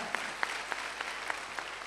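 A church congregation claps in a quick burst, sharp hand claps landing roughly every third of a second, fairly faint and a little distant.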